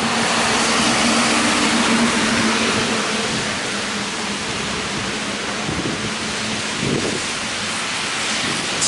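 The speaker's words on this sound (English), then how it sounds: "Got a little wind going on my back." Strong wind roars outdoors in a town's downtown area ahead of a storm, a loud, continuous broadband rush that buffets the microphone and never lets up, with no voices.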